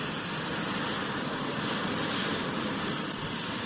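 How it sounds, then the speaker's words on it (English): A steady, broad roar of a helicopter flying overhead, fairly loud and unbroken throughout, with no talking and no clear rise or fall. "the president's personal helicopter waiting to whisk her into town for her first date"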